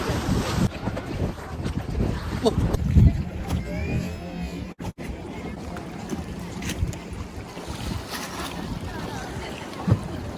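A houseboat moves across open water, with steady wind buffeting the microphone and a continuous wash of water and waves, fairly loud and unbroken for the whole stretch.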